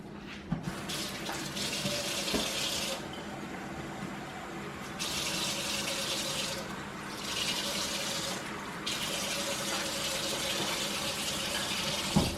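Tap water runs into store-brand buttermilk pancake mix, a steady rushing stream that cuts in and out several times over about twelve seconds, close and fairly loud with no talk.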